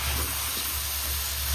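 Chicken biryani masala hisses and sizzles in a pot as water is poured in, a brief, steady, close steaming burst with no talking.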